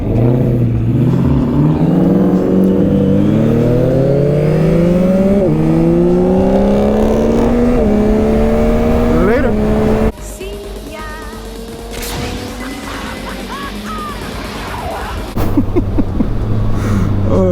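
A 2021 Yamaha MT-09 SP motorcycle accelerating hard through the gears, its engine rising in pitch several times with quick shifts, then settling into a lower steady drone before revving up again, loud and close.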